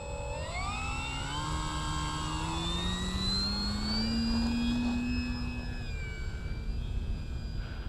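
E-Flite Commander mPd 1400mm RC plane taking off, its electric motor whining steadily and rising in pitch as it climbs, then fading slightly into a smooth drone, loud and close throughout.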